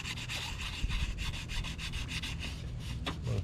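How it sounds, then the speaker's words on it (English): A car headlight is sanded by hand with a continuous, rhythmic rasping of quick back-and-forth strokes, close and fairly quiet, with no talking. "I like to start off by sanding"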